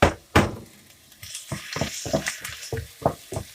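Garlic and ginger stir-frying in a hot pan over medium heat: steady sizzling, with a run of rhythmic scraping stirs and soft thunks of the spatula.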